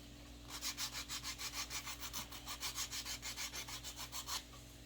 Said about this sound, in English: I have a little sander here I'm gonna use, a finger sander.